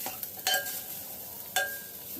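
Raw mango rice being stirred and sautéed in a spiced tempering, with a soft steady sizzle under two sharper scraping strokes of the spoon against the pan, close up.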